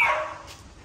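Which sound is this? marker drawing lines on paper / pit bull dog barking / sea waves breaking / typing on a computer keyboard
pit bull dog barking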